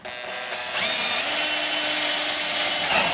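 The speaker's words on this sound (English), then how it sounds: "And finish screwing it down" A power drill runs a screw into metal rake trim on a storage building, the motor spinning up briefly then whining loud and steady for about three seconds, close and alone.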